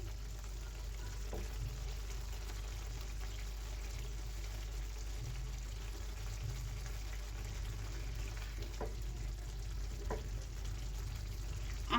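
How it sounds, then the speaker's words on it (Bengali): Small fish curry simmering and frying in a pan while being gently stirred, a quiet steady sizzle with a few soft scrapes and clicks of the utensil against the pan. "এখানে কিন্তু আমি আলতো করে একদম নাড়াচাড়া দিচ্ছি"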